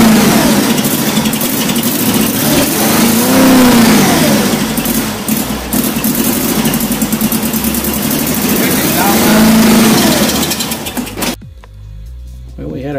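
A 2008 Chevy HHR's freshly replaced 2.2 Ecotec engine revs up and down repeatedly at close range on its first startup, loud and rough, then cuts off abruptly near the end.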